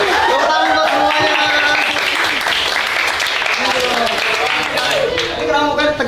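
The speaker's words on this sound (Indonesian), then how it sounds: "Tepuk tangan buat semuanya." A room of students bursts into loud, steady clapping in a mock classroom lesson. The clapping is dense and sustained throughout, with voices talking over it.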